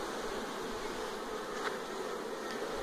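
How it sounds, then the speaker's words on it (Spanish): Honeybees swarm and work around a hive at an apiary, a steady dense buzzing that fills the whole stretch with no talk over it. "pueden observar ahí ustedes, bastantes abejitas trabajando."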